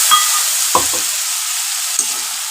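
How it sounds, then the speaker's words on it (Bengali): Potatoes frying in a pan for a Bengali banana-flower and prawn dish give off a loud, steady sizzle, punctuated by a few brief stirring scrapes. "এবার আলুটা ভাজতে থাকছি"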